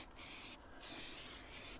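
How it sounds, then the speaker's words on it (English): Anti-rodent aerosol sprayed onto the floor pan of an Audi car, heard as three close, loud hissing bursts separated by short pauses, with no talk over them. "I'm going to spray a load in the floor pan as well, I think."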